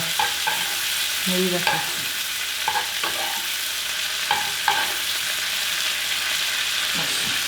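Ling fish sizzles and fries steadily in a pan while being basted, with soft scraping and spooning sounds rising above the hiss and a few quiet spoken words.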